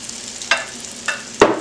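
Ravioli frying in a pan with a generous amount of butter, giving a soft continuous sizzle with three sharper spatters or stirring scrapes, close by, with no talking.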